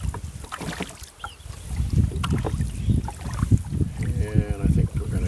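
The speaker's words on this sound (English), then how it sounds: "since I got the wind behind me, it'll be easy enough rowing backwards" Rowboat moving backwards on a creek with the wind behind it, oar and water splashes knocking in an uneven rhythm under steady wind noise, close and moderately loud.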